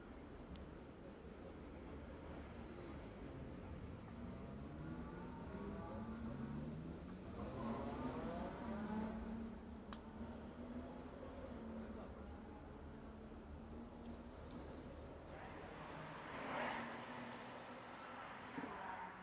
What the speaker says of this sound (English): So course inspection cars are back out.